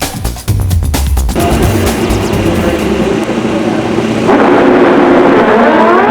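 Pro Stock drag bikes racing at the 2002 AMA Prostar championship, loud engines revving in sharp bursts, then a sustained roaring launch that climbs in pitch as the bikes pull away.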